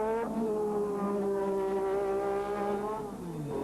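A 1986 Formula 1 race car engine screams at high revs, holding a sustained pitch with small shifts, and the note drops away near the end as the car passes.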